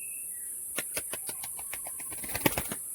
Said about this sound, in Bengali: পায়রা দেখুন মেটিং করছে